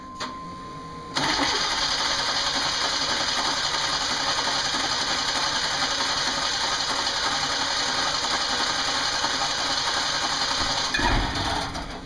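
A 1992 Chevy Camaro V6 is hard-starting when cold: a brief cranking sound, then a loud, steady engine drone that runs for about ten seconds before it cuts back.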